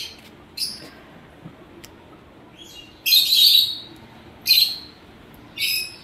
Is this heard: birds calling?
yes